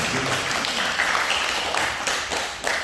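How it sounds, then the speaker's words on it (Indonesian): Congregation in a church service breaking into sustained applause, a dense continuous wash of many hands clapping from a crowd, steady and fairly loud throughout with no clear speech. "Beri tepuk tangan dulu buat Tuhan."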